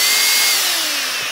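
A Dyson DC16 handheld vacuum cleaner motor runs close by as a loud, high-pitched whine with a faint slowly falling tone, steady and uninterrupted, no speech over it.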